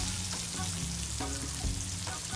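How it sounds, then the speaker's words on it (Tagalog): Garlic sautéing in butter in a pan for dinuguan crackles and sizzles steadily at close range, a dense continuous frying hiss with occasional stirring. "Pag gisa-gisa nyo yan, lagay nyo na tong bawang or garlic."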